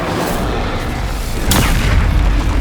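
A Bombarda spell explodes in Hogwarts Legacy on PlayStation 5 Pro, a loud booming blast bursting out of dense, continuous battle noise about halfway through.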